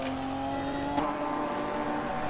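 Ginetta GT4 race car with a Ford engine at Donington Park, heard from trackside outside the car as a steady, loud engine drone with a slight pitch shift and a brief peak midway.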